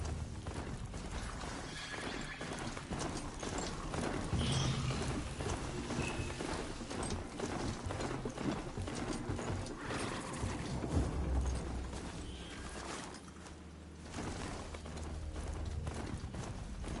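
A machine mount running in Horizon Zero Dawn: a steady, continuous patter of mechanical hoofbeats with whirring, clanking gear noise, held close and fairly loud throughout.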